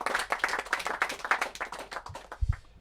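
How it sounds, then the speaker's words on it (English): A small group gives a round of applause, several people clapping close by in a lively, uneven burst that tapers off after about two seconds. "Round of applause for Will."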